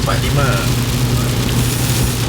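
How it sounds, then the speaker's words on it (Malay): Very heavy rain near Kuala Selangor at night, a loud dense wash of noise filling the whole clip with a steady low rumble beneath, as if heard from inside a vehicle; a faint voice-like tone appears briefly. "hujan gila lebat gila weh"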